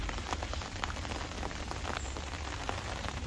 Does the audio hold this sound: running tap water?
no